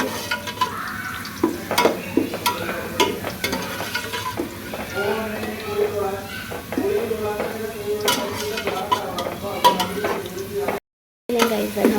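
Masala of garlic, ginger, green and red chillies, garam masala, cumin, tomato and salt frying in oil in a pan, with steady sizzling, frequent stirring scrapes and clinks of a utensil against the pot, close and continuous.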